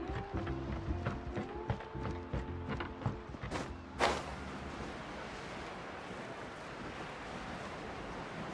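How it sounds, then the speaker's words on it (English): Waves splash and rush steadily while surfing in Genshin Impact's Natlan region, with a sharp burst near the middle before a constant, dense wash of water continues alone. "Carving waves!"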